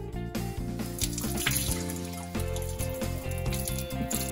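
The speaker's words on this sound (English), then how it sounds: "Now we're gonna rinse the lentil to make sure that the lentil is fully cleaned." Water runs and splashes into a pot as lentils are rinsed clean, a continuous busy gush with uneven sloshing surges and no talking.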